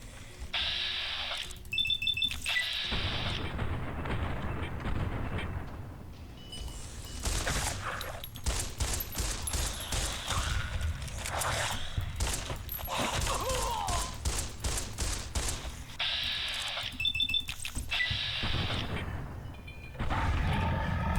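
Gunfire in Fallout New Vegas as the player shoots down enemies: clusters of sharp shots crackle over several seconds, mixed with game alarm-like beeps and mechanical effects.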